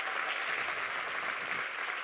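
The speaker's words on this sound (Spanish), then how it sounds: "Dale un fuerte aplauso al Señor en esta tarde" A church congregation applauds loudly and continuously during a worship service, a thick, even roar of many hands clapping at once for a couple of seconds, with no voice over it.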